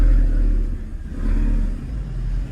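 A Volkswagen Golf GTI engine revs through its exhaust, a deep loud rumble that rises and falls in two swells, heard close up with no talking.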